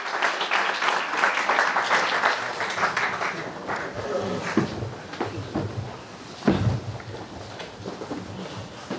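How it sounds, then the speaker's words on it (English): A round of audience applause at a CHAZAQ Torah lecture event, a dense burst of clapping that gradually thins out over several seconds, with a few sharper knocks and thuds scattered through it. "Let's give a nice loud round of applause to world-renowned lecturer"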